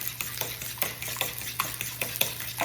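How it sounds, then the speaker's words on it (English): Spinach cooking down in a pan, stirred with a utensil: a quiet sizzle punctuated by a rapid series of light taps and scrapes against the pan over a faint steady hum, with no talking. "We're just gonna give those a little mixy mix. Let them cook down."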